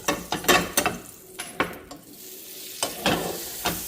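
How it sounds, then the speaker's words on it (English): About a tablespoon of butter sizzling in a hot pan for pancakes, a crackling fry under close spatula or pan scrapes and clinks that come in quick bursts, with a softer sizzle in the gaps; no talking. "You're going to take just about a tablespoon of butter, and you're going to put that in the pan."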